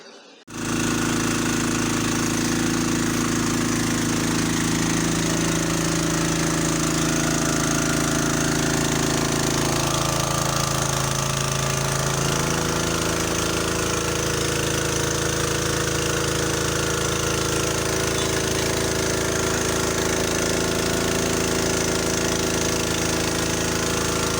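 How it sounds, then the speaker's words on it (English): A heavy engine on a water well drilling rig on a farm drones continuously and loudly, with a steady mechanical hum and rattling, running without pause. "So you keep drilling until you get to the depth you want."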